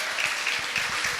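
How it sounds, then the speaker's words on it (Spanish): A short, even burst of clapping from an audience at a coffee-industry panel discussion at Hacienda Muñoz, greeting the two panelists, steady and moderately loud with no voices over it. "Un aplauso para ambos."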